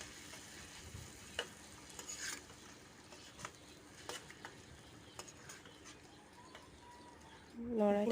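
Roselle leaf paste fries in oil for a fish curry while it is stirred, giving faint, scattered scraping strokes over a soft, low sizzle, with a brief voice at the very end.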